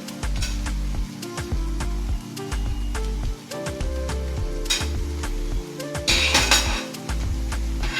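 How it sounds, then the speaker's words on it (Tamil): Two ladles toss veg noodles in a pan. Metal clinks and scrapes repeat steadily over a continuous low sizzle from the pan, with a brighter swish of stirring near the end. "இது ஒரு கரண்டியில் வச்சு மிக்ஸ் பண்ண கொஞ்சம் கஷ்டமாக இருக்கும், அதனால் 2 கரண்டி எடுத்துக்கோங்க"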